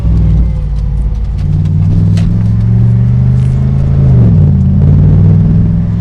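A 2016 Morgan Aero 8 Roadster's exhaust rumbles loud and close, a deep steady drone that rises slightly toward the end as the engine pulls after a shift into first gear, with no talking.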